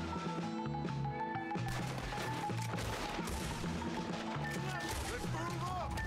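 Gunfire in the video game Red Dead Redemption 2 comes as repeated sharp shots and bursts with clanking impacts, loud and mixed with game music and sounds, while a player talks over it.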